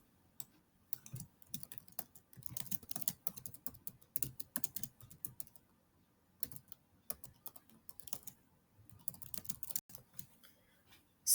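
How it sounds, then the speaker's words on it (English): Quiet, close typing on a computer keyboard comes in several rapid bursts of key clicks separated by short pauses. "I'm going to type it here again."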